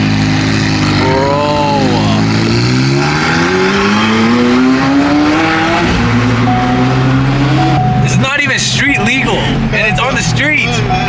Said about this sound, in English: This might be like the one and only time we'll see a Senna GTR drive on the street in Beverly Hills